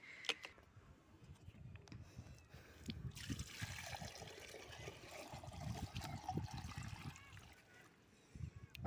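Water poured into a bowl for pigeons on a rooftop, a faint steady trickle and splash lasting several seconds amid quiet background noise.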